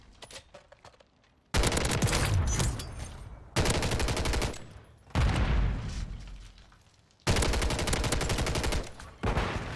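Gunfire from a DG-58 LSW in Call of Duty: Modern Warfare 3 rattles in loud, close bursts, four or five sustained automatic volleys separated by short quieter gaps, with no speech.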